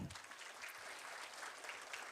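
A crowd at a marketing presentation claps together in steady, dense applause, sustained throughout without a break.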